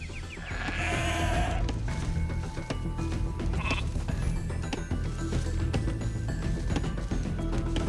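Sheep in Age of Empires II: Definitive Edition bleat in a clear, wavering call near the start, then quieter bleats and light clatter over a steady game background.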